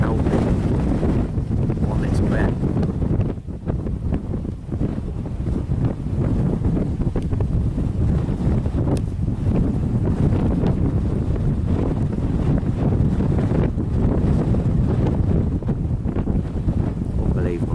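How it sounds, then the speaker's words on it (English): Strong wind buffets the microphone continuously during a wildfire in Cyprus, producing a loud, unbroken low roar and rumble that barely lets up. "Because of the strength of the wind, which obviously isn't helping one little bit."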